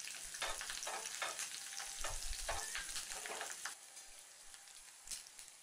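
Cumin seeds and curry leaves frying in a pan, stirred briskly with a spoon, a crisp close sizzle with rhythmic scraping strokes that then settles into quieter frying.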